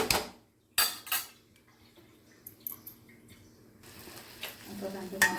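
A lid set onto a cooking pan of brinjal, with sharp metallic clanks and clatters, a few quieter taps and rattles in between, and faint sizzling in the background, close by.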